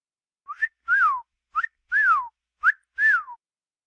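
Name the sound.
whistling imitating a parrot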